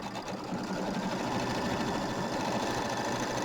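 A sewing machine runs steadily and loudly without a break, free-motion quilting a small pebble design of little round circles on a mini quilt.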